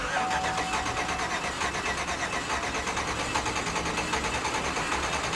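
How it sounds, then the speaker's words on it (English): A Chevy Yukon engine cranks continuously in clear flood mode without catching, a fast even whirring churn of the starter that stays close and loud throughout. "We're going to put it in clear flood mode, push the gas pedal all the way to the floor and it shouldn't start."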